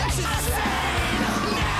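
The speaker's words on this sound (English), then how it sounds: "Why have I never noticed the screaming like that?" Harsh screamed vocals in a rock song fill the clip over dense, loud, distorted band music. The sound is steady and continuous, with no gaps.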